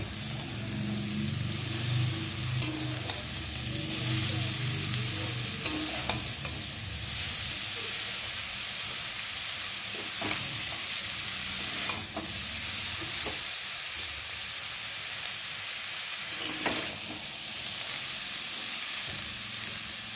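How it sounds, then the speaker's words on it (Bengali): Chowmein and vegetables being stirred and fried in oil, a constant low sizzling hiss with occasional utensil knocks and scrapes across the pan, heard steadily for a long stretch. "আর এখন আমি ওপর দিয়ে চাউমিনটাকে দিয়ে দেবো। দিয়ে একটু ভালো করে নেড়ে নেব।"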